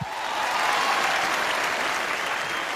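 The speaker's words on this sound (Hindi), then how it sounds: "जोरदार तालियां पाजी के लिए होनी चाहिए" Loud, sustained applause from a studio audience on a comedy show with Bhojpuri stars, a dense, even roar of many hands clapping, continuous and full throughout.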